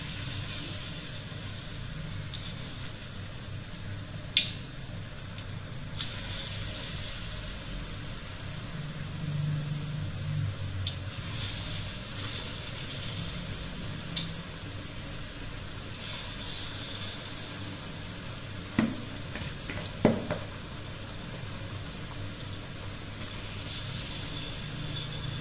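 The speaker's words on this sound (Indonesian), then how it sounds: "Sekali kita goreng bakwan udang keringnya" Shrimp fritters (bakwan udang) frying in hot oil give a steady, close sizzling hiss that runs on continuously, broken by a few brief pops and crackles.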